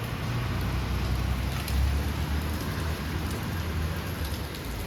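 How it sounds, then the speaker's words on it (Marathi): Heavy rain pours steadily and densely, a loud unbroken hiss of drops hitting surfaces close by, with no voices. "बघा परत पाऊस आला जाम जोरात"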